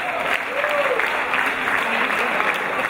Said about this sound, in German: Wir begrüßen alle mit dem gleichen Applaus.